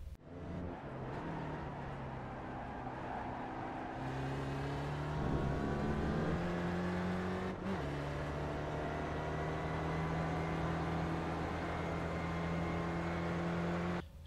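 Steady droning race-car engine note from an SRF spec racer lapping Sears Point in iRacing, held at high revs with shifting harmonic pitch, a brief dip near the middle, loud and continuous with no talk.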